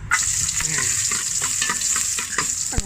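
Shallots frying and being stirred in a little oil for a Lao-Isan beef curry, a steady close sizzle with repeated spatula scrapes and clatters throughout, no talking.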